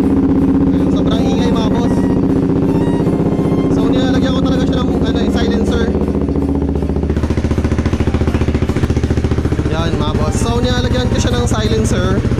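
Loud KTM Duke 390 motorcycle fitted with a V-Max aftermarket silencer, the exhaust idling and revving in a constant throbbing drone, up close, with someone talking over it.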